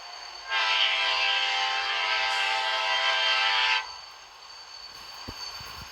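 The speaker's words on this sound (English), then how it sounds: "we have a train arriving on platform 1. Sounds like an AmRail." An AmRail train pulls into platform 1 at Orion station in a video game, sounding a loud, sustained, chord-like horn for about three seconds before fading into quiet rail ambience.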